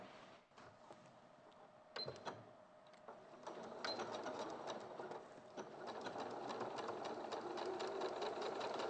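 Sewing machine stitching quilting fabric blocks for a butterfly block, a steady fast mechanical whirr with rapid needle ticks that grows slightly louder and busier midway, heard alone without talk.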